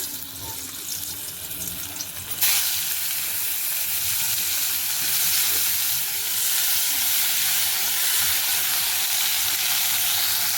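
Halved bitter gourd with seeds scooped out going into hot oil in a home kitchen, giving a sudden loud hiss that settles into a steady, close sizzle and crackle.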